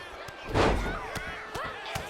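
A takedown slam in the WWE 2K25 wrestling video game lands as one loud, heavy thud near the start, followed by lighter impacts, crowd noise and commentary talk running throughout.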